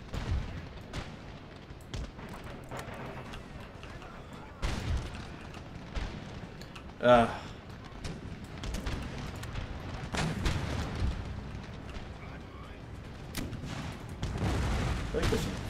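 Massed musket volleys and artillery fire from a 1710 Empire: Total War battle with Poland-Lithuania forces: continuous crackling fusillades with one sharp loud boom mid-way, dense and distant-sounding, with a voice talking over parts of it.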